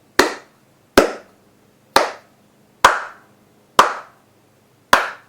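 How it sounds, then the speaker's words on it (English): Hand claps controlling the DK Jungle Beat video game: six sharp, loud single claps at an even pace of about one per second, each ringing briefly before silence. "You clap to grab bananas, you clap to throw items, you clap to stun enemies"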